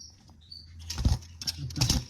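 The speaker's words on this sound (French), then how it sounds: "s'envole, parce qu'à chaque fois je les mets sur la serviette, il s'envole." Small cage bird flapping its wings as it flies off a towel, two close bursts of rapid wing flutter with a faint chirp early on, no talking.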